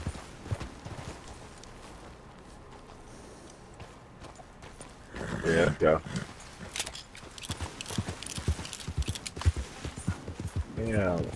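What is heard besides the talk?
horse hooves clip-clopping in the video game Red Dead Online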